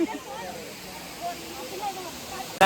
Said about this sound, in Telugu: చూస్తున్నారు కదా ఇదే వాటర్ ఫాల్స్